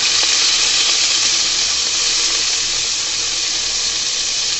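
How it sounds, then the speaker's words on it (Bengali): Prawns frying in hot oil in a pan, a dense, steady hiss of sizzling that stays loud and close the whole time, with no voices. "এই পর্যায়ে দিয়ে দিব চিংড়ি মাছগুলো"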